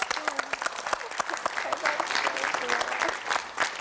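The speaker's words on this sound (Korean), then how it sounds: "여러분 박수 한번 주세요." Studio audience applauding on a Korean KBS television talk show, a steady wash of clapping through the whole stretch with some voices mixed in.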